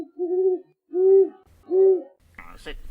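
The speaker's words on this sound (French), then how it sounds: "il entendit un hibou qui poussait des cris désespérés." An owl in a large wood at dawn hoots three times in slow, even, mournful calls, loud and close, followed by a short rustle.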